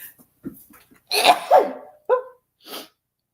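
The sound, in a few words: sneeze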